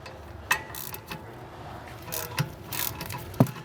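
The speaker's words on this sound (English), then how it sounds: "we're going to start by removing our two 13mm guide pin bolts" A ratchet working on the 13mm rear brake caliper guide pin bolts of a 1999-2006 Mk4 Volkswagen Golf GTI. Close, irregular ratcheting clicks and a few sharp metallic knocks play over a low background.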